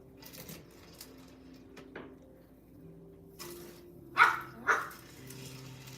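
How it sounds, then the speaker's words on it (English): House dogs give two sharp barks in quick succession, fairly close, after several seconds of quiet indoor background with faint clicks. "I have learned to tell their barks apart from each other."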